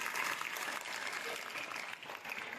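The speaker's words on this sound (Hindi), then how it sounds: "अपनी मैडम जी का ताली बजाइए बच्चों, जोरदार ताली बजाइए।" Children clap together at a school ceremony, a dense, even patter of applause that stays steady throughout the short stretch, fairly faint and slightly distant.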